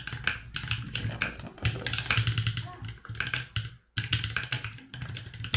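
Rapid, continuous clicking of keys on a computer keyboard, close and fairly loud, with a brief pause near the end and quiet talk mixed in.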